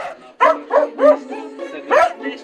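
Truffle-hunting dogs in a backyard bark in short, sharp bursts, several close yelps and barks spaced unevenly over a couple of seconds.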